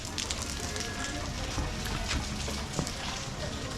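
Rain falls on a street in Hoi An, Vietnam, a steady dense patter and splash with scattered louder drops, continuous and fairly close, with faint background activity.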